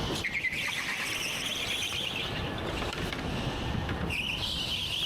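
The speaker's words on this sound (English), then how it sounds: "you can hear it squeaking at the tyres" Go-kart tyres squeal on the track at PMG Karting World during a bit of oversteer: thin high-pitched chirps come in two bursts over steady engine drone and wind rush.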